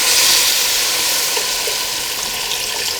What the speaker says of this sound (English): first thing you want to do probably is add the broth of choice